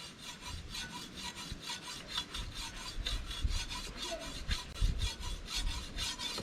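A file rasps along a blade in quick, regular back-and-forth strokes, steady and close, with low rumbling in the background.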